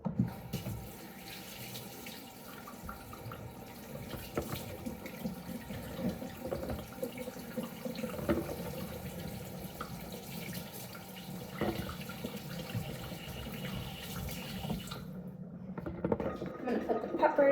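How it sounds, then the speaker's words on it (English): Peppers are washed under a running kitchen tap during meal prep. Water flows steadily into the sink with splashing changes throughout and then cuts off near the end, while a person talks over the sound. "I'm gonna wash these peppers."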